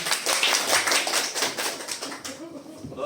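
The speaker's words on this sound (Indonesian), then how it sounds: "Oke, silakan tepuk tangan untuk kita semua." Audience of teachers applauding at a school workshop, dense rapid hand clapping from a room full of people, loud at first and tapering off toward the end as a voice speaks.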